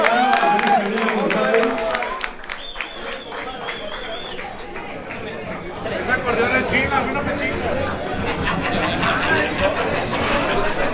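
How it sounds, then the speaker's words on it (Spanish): Crowd applause and cheering fill a norteño music venue, steady clapping and chatter running throughout, with a voice speaking over the noise and bits of music. "¡El aplauso fuerte, que se oiga!"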